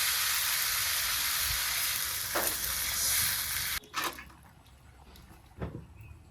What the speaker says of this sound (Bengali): একেবারে ভাজা ভাজা করে নিলাম